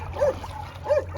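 A couple of short, high yips from a dog, close by, with a brief pause between them.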